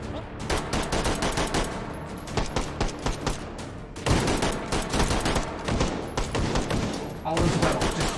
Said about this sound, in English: stand in the gunfire